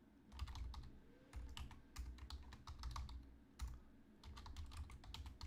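Close, quiet typing on a computer keyboard in quick bursts of clicking keystrokes separated by short pauses, with no voices.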